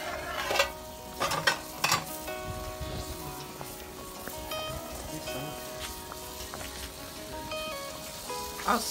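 Ogbono soup with dried fish simmers in a pot over a village firewood fire, giving a steady soft bubbling and crackle broken by a few louder stirring knocks near the start and end, with no talking.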